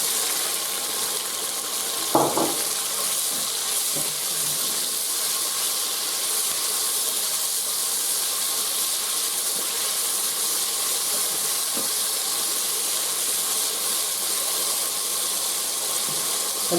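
Green peppers sautéing in a pan, a steady bright sizzling hiss that runs unbroken throughout, with a single short clink of a utensil near the start.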